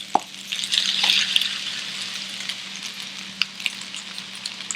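Shrimp dropped into a hot pan for shrimp fried rice, sizzling in a burst that swells early then settles into a softer steady fry with scattered clicks of a utensil.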